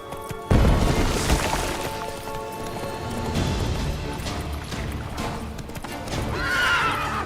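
In The Witcher 3 video game, a horse whinnies loudly, then its hooves clip-clop along in a steady rhythm, joined by scattered crashing effects and a second whinny near the end.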